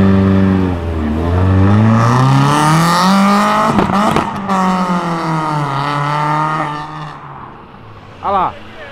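A T-jet car accelerates in a racing video game, its engine pitch climbing through gear changes with a brief screech partway, under an excited voice.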